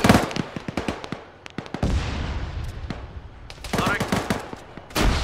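Gunfire in the military video game Arma 3: rapid bursts of automatic fire and sharp single shots crackle in clusters, with a brief lull in the middle before dense firing resumes.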